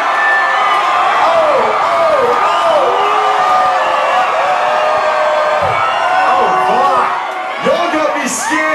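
A concert crowd at a show in St. Catherine cheers and whoops loudly, with a dense wall of shouts and rising whistles that carries on throughout.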